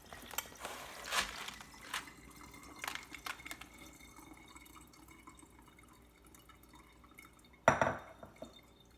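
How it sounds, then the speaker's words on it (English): Water drains and drips from soaked sticky rice in a bamboo basket, faint scattered trickles and drops with a few sharper splashes, one louder burst near the end. "So let all the water drain out"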